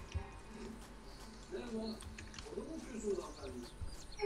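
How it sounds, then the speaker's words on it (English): Birds chirping and cooing in the survival video game Unturned, scattered soft calls over a steady ambient bed, with people talking over them. "I heard a couple birds."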